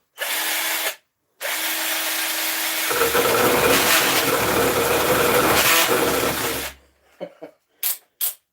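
A mini chainsaw attachment driven by a power drill whirs loudly up close, briefly cutting out and then restarting before it bites into wood with a rougher, heavier grinding roar and then stops, followed by a few short clunks.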